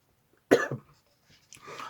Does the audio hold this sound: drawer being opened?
no